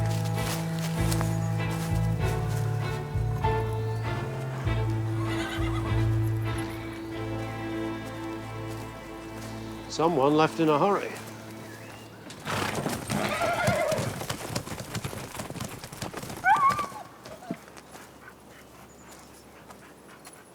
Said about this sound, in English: We've found the horses.